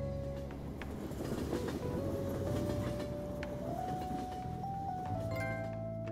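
A train ride in the Persona 5 Royal video game, with steady rumbling rail noise and clickety-clack beneath a slowly rising tonal whine as the train moves, loud and continuous with no talking.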